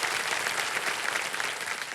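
Studio audience applause welcoming contestants on the KBC quiz show set, a dense, steady wash of many hands clapping, loud and continuous throughout with no voices on top.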